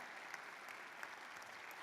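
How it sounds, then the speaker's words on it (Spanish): Soft, steady applause from a church congregation praising the King, a distant even wash of many clapping hands with no talk over it. "no le das un aplauso al Rey"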